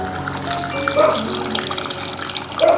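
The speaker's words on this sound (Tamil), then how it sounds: "இப்போ வந்து புளி தண்ணி ஊற்றிடலாம்" Tamarind water pours steadily into a boiling fish curry in a continuous splashing rush, close by, with faint voices murmuring underneath.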